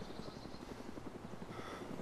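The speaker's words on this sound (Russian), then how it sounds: "Слышу вертушку." A helicopter flies overhead in the video game DayZ, its rotor producing a rapid, steady rhythmic chop that stays fairly faint and distant throughout.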